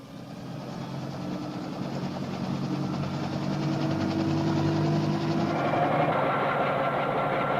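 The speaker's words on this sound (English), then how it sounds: "The first stage of the journey is aboard President Kennedy's helicopter to the airport" President Kennedy's helicopter on a flight to the airport gives a loud, steady engine and rotor drone that swells slightly and holds throughout, with no voices.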